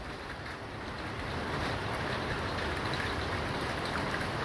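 A violent thunderstorm drops heavy hail about 2 cm across along with rain, a dense, steady hiss of falling ice and water that swells slightly louder partway through.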